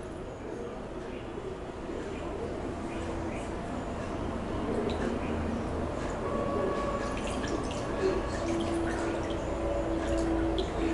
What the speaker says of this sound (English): So now when you wash it under running water,